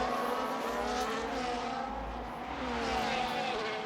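A Formula 1 car is overtaken in a racing video game, with high engines whining and shifting pitch in a loud, sustained drone.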